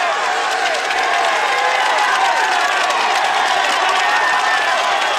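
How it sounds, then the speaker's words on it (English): A roadside crowd cheers and claps as cyclists climb a mountain stage of the 2012 Tour de France, a steady, loud wash of voices and applause throughout. "Look at the crowd here as they go up the climb."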